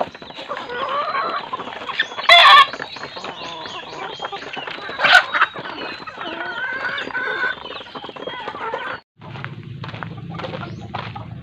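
Native chickens and mother hens cluck and call up close, with a short loud squawk or two, then a sudden cut to a lower, steady background hum with scattered clucks.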